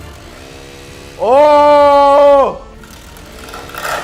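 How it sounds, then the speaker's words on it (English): A homemade DIY lawnmower runs up to speed against a plant with a loud, steady motor whine that lasts a little over a second and then cuts off. A voice exclaims briefly nearby. "Homemade lawnmower versus plant"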